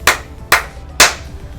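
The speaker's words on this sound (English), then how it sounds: "3 claps." Three sharp hand claps spaced about half a second apart, loud and close, each with a quick bright decay, alone with no talking.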